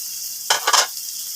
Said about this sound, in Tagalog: Magbutang nga tag butter gamay. Ato rin ipa-brown.